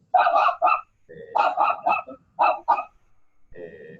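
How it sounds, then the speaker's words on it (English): Dogs bark repeatedly in quick clusters of two or three, close and loud, with short gaps between volleys. "So we already hear some dogs."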